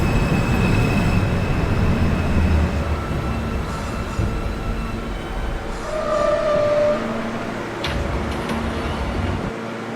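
MTA subway train at Fulton Street station, simulated in Hmmsim 2: a steady rumble of rolling wheels and car noise with faint squeals and whines over it, continuous throughout.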